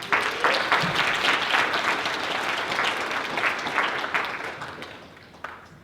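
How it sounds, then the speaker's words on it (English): An audience at a university event on race relations applauds in a sustained burst of many hands that stays fairly strong, then gradually thins and fades toward the end, with a last few scattered claps. "Another round of applause"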